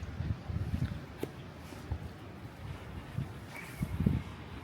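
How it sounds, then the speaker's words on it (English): Gusty wind in Michigan buffets the microphone in low rumbling bursts, rising and falling irregularly throughout. "I don't know if you can hear it in the video, but it's just so windy here"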